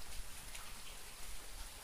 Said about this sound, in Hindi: देख सकते हैं आप कितनी बहुत ज़्यादा जोर से बारिश हो रही है।